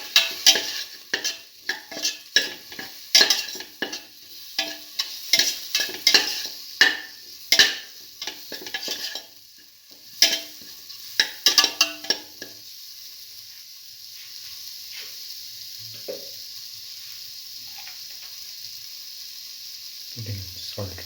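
A spoon scrapes and stirs potatoes and French beans with coriander powder in a sizzling pan, with irregular close scraping strokes over a steady fry hiss for about twelve seconds, then only the quiet sizzle carries on by itself.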